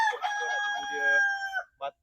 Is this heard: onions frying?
no